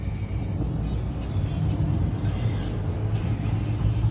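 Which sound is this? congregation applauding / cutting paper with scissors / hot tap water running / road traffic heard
road traffic heard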